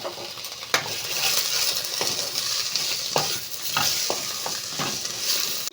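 Chutney ingredients, a whole Kashmiri chili, green chili, sugar and salt, frying in a pan, with a steady sizzle broken by sharp scrapes and clinks of a spatula stirring against the metal.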